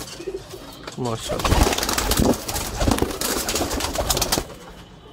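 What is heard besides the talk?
pigeons cooing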